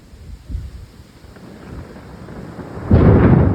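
Thunder in a severe thunderstorm with rain falling, a low distant rumble building and then a louder, nearer crack and roll near the end, no talking.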